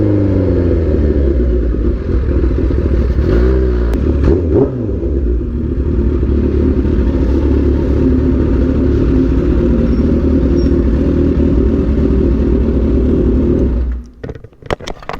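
Kawasaki Ninja H2 motorcycle accelerating hard through the gears, a loud close engine roar with rising revs and sharp shift breaks around the 1st to 2nd change, sustained for most of the run before cutting off abruptly near the end.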